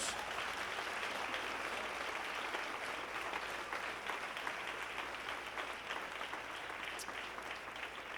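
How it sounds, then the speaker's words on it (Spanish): A church congregation at a Spanish-language evangelical service breaks into full, dense applause that holds steady and loud for the whole stretch, with no voices standing out above it. "Démele un aplauso a la presencia de Dios"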